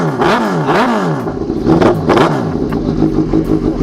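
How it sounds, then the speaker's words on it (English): An RMZ 1000 dirt bike engine revs hard and close, its pitch sweeping up and down in repeated throttle blips over a loud, rough idle. "Damo's going to start up the what is it, an RMZ 1000"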